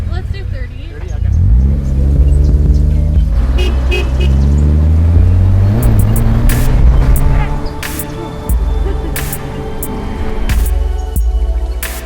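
A Scion FRS and a Hyundai Genesis coupe in a roll race, engine revving and surging loudly with rising and falling pitch under excited in-car talk, plus short horn-like toots and thumps near the end.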